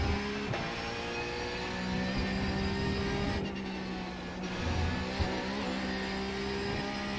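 Porsche GT3 Cup race car engine in iRacing at Road America, a steady droning engine note that holds, then dips and climbs again through a corner, near and fairly loud, with no talk.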